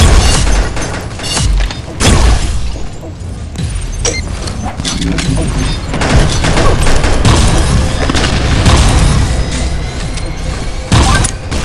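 Dense, chaotic game gunfire from Pixel Gun 3D, with sharp shots and booms piling into a continuous loud barrage over busy background effects.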